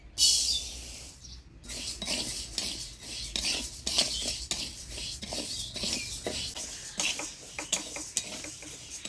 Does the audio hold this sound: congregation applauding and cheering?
no